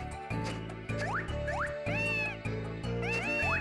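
Cat meows from Harvest Moon: Tale of Two Towns on 3DS, several short rising cries over steady game music.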